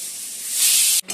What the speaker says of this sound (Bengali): এই যে বন্ধুরা মশলাটা কষানো হচ্ছে এখন